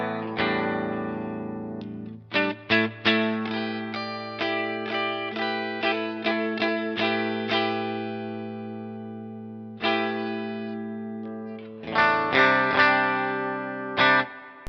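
Firefly electric guitar strummed and picked through various pickup settings, with effects-laden chords and single notes ringing out, pausing and restarting in bursts.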